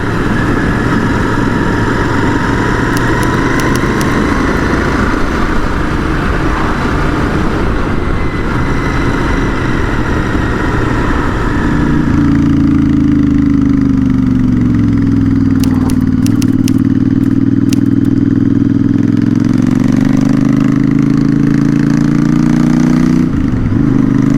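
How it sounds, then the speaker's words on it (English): A Royal Enfield Interceptor 650 motorcycle engine idles loudly and steadily up close, its deep exhaust rumble running throughout with a slight shift in tone partway through. "I'll compare it with the exhaust of the Interceptor that I'm riding with the original one."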